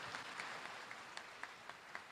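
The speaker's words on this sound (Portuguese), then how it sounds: "Dá uma salva de palmas para a palavra de Deus." A church congregation gives a round of applause for the word of God, quiet scattered clapping with a handful of distinct, sharper claps standing out from a soft background.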